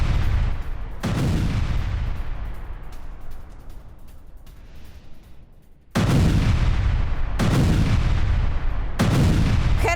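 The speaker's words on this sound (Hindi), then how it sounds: "रूसी हमले के बाद जबरदस्त धमाके हुए" Explosions from a Russian air strike in Kherson: heavy, loud booming blasts, one near the start and a cluster of three in the last four seconds, with a long rumbling decay between them.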